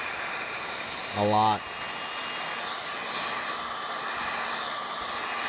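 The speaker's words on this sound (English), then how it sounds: "Now what I'm going to do is I have my heat gun. It's a little Wagner" A small cheap Wagner heat gun blows steadily and loudly while heating a car fender, a continuous airy roar throughout with a brief spoken phrase near the start.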